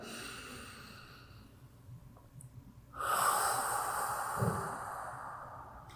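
A slow, deep inhale followed by a long exhale during a resting child's pose stretch, quiet and breathy at first, then a louder, fuller rush of breath that sustains to the end.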